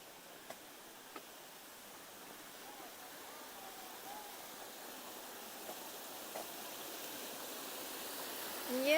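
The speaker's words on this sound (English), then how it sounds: "It's a small waterfall." A small waterfall in Daisen Park's Japanese garden in Osaka makes a soft, continuous rush of falling water that holds steady throughout, with a few faint ticks and taps from the surroundings.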